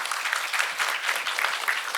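Audience at a Korean intergenerational forum claps steadily in welcome, a dense, even patter of many hands sustained throughout with no voices on top.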